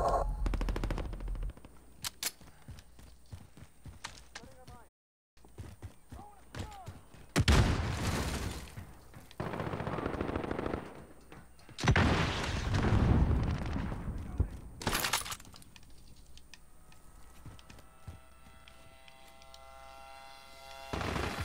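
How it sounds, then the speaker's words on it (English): Video game shooter combat with rapid machine-gun bursts, single shots and heavy booming explosions, dense and loud in waves, with in-game radio voice callouts mixed in. "Oh, I'm taking fire!"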